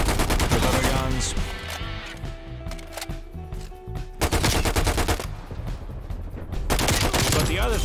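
Rapid automatic gunfire from a slow-firing gun in Call of Duty Cold War rattles in loud bursts, with a pause in the middle before the shooting resumes, and a voice talks over it.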